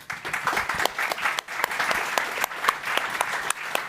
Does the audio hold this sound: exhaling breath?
no